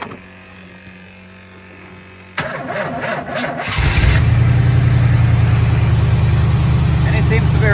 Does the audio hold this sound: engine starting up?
yes